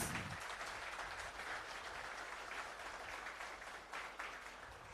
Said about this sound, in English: And I think that deserves an applause.